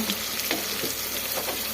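Tempering frying in a pan for cooker chitranna, lemon rice, a steady close crackling sizzle that holds evenly throughout with faint stirring scrapes and no voices.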